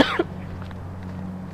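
One short, sharp cough at the very start from an adult with a dry, scratchy throat, close and fairly loud, followed by a quieter throat-clearing rasp, then only low room hum.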